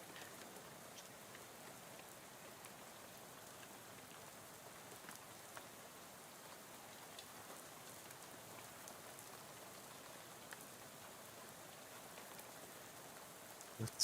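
Faint, steady ambient rain from the Shadows Over Loathing video game soundtrack, a soft continuous patter with scattered drop ticks and no talk.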